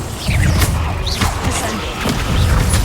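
Confringo blasting spell explosions in the Hogwarts Legacy video game, with several booming, crashing bursts over a dense, noisy game soundscape.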